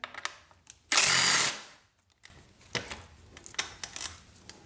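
A power tool spins out a bolt on a Yamaha R6 side fairing in one loud half-second whir close by, followed by quieter clicks and rattles as parts are handled.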